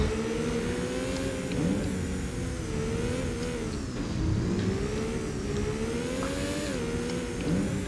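Car engine revving steadily and loudly throughout in the PlayStation racing game Need for Speed: Porsche 2000, a fast car's rising and falling engine tone alone with no talk.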